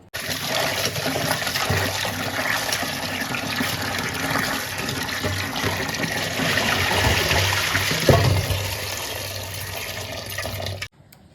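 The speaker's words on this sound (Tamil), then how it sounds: "நான் 2-3 ட்ரிப் நல்லா தண்ணி ஊற்றி கழுவி எடுத்துக்கலாம் வாங்க." Water pours and splashes steadily over tapioca roots as they are washed by hand, a continuous close rush of liquid lasting about eleven seconds before it stops abruptly.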